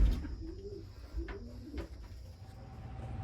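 An injured racing pigeon, gashed in a hawk attack, gives low soft coos close by, a few brief murmuring calls over a quiet indoor hum with no talking.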